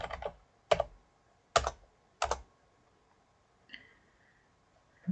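Someone types a short command on a computer keyboard while working in CAD software and finishes by pressing enter. A few separate, crisp key clicks come close up in a quiet room, with gaps between them.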